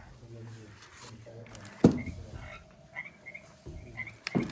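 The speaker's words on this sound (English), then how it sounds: "The frog" A frog call played among a series of animal sounds at a wildlife park, with a few short croaks punctuating voices talking nearby throughout.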